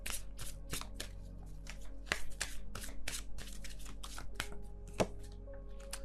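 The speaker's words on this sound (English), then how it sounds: "I'm not shuffling very quickly or anything." A deck of tarot cards being shuffled by hand at an unhurried pace, crisp repeated riffling and slapping clicks in a steady rhythm, close and clear with no talking.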